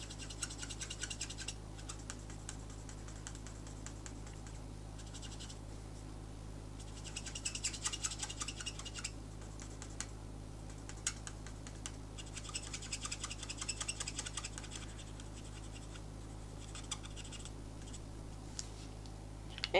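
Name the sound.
colour lifter rubbing on paper card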